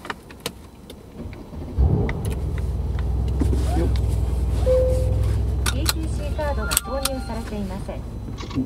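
A 2017 Mercedes-AMG C63 station wagon with a 4-litre twin-turbo V8 starts up, its engine catching with a burst and settling into a steady, deep idle, while clicks and cabin mechanisms sound around it and someone talks over it.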